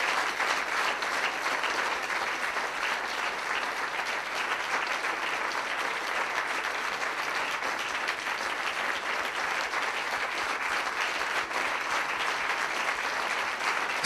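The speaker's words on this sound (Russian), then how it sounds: "Аплодисменты великому Богу, Отцу, Сыну, Святому Духу." A church congregation applauds at a seminar, a dense, steady wash of many hands clapping at constant loudness for the whole stretch, with no voices rising above it.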